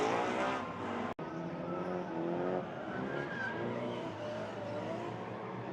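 Drift cars work the track at Owosso Speedway during a Michigan drifting event, a dense, continuous roar of engines and smoky tire squeal holding steady and loud, with one sharp dropout early on and no talk.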